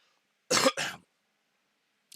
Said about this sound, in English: Sorry, trying to cough away from the mic there.